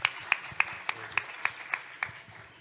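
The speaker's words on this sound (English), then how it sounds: "Can we have a round of applause for him, please?" Crisp, evenly spaced claps sound at a sustainability talk, about eight sharp hits in a steady rhythm over a faint room hum, close and fairly distinct rather than a dense crowd wash.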